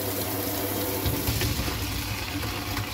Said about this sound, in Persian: من آب سرد رو باز کردم